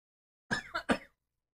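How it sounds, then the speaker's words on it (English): A person coughs three times in quick succession, short and fairly close, with silence before and after. "I got a little case of the coughs."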